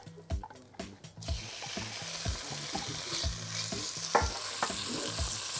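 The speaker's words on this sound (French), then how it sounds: "quand ma casserole est chaude, faut pas que l'huile elle fume, mais simplement chaude, je vais pouvoir ajouter mon blanc de poulet." Chicken breast pieces frying in hot oil in a casserole, a steady close sizzle broken by clattering knocks of utensil and pan as the meat is stirred.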